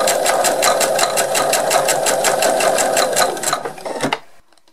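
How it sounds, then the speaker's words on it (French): A sewing machine stitches the sides of a faux leather pouch with a fast, even run of needle strokes. It stops abruptly near the end, leaving near silence. "Maintenant, je vais coudre les côtés."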